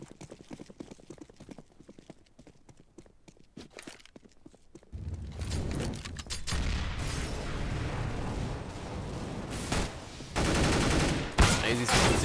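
Gunfire bursts in Counter-Strike on the Inferno map during a fnatic versus G2 Esports match, starting sparse and quiet, then dense, loud firing and impacts from about five seconds onward, with a sharp spike near the end.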